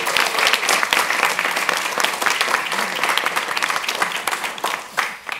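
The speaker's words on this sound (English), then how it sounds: "Can we please have a round of applause for our moderator and MC" An audience at a showcase event applauds its moderator and MC, a dense, steady wash of many hands clapping together, fairly loud and sustained, easing slightly toward the end.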